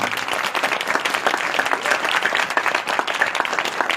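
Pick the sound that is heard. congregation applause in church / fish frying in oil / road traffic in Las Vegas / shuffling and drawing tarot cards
congregation applause in church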